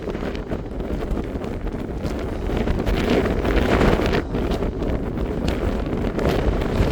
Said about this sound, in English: Yeah, it's very windy up here.